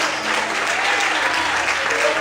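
Church congregation clapping during a worship service, a continuous dense patter of many hands at steady volume, with a voice faintly audible beneath it.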